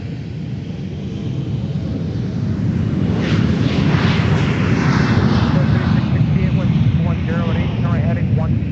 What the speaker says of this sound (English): this departure now is going to be an Embraer 175LR, headed to Great Falls